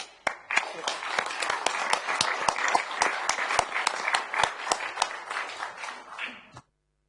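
Council members applauding in a chamber meeting, a brisk run of sharp, distinct claps from a modest group, fairly near, lasting several seconds before stopping abruptly.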